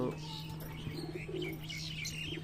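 Desi giribaj pigeons cooing in a loft, soft low murmuring coos and a few faint chirps over a steady hum, quiet and somewhat distant.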